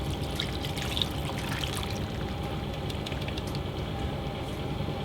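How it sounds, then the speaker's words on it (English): Stock pours steadily into a pot of lamb stew, making a continuous watery trickle and splash at moderate volume for several seconds. "And we're going to put our stock in."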